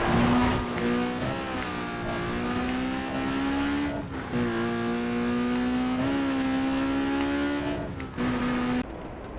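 Mazda RX-7 engine in a racing video game, a sustained, steady drone with a few brief shifts in pitch, fairly loud and continuous with no talk over it.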